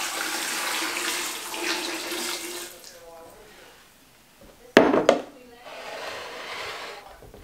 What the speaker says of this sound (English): And then I'm gonna cover with water.